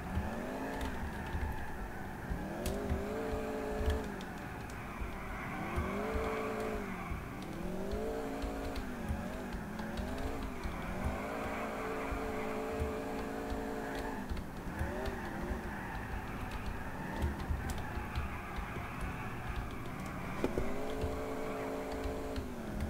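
A car drifting in a police-drifting driving game, its engine revving up and down in repeated swooping sweeps with steady tire and road roar underneath, fairly loud and continuous throughout.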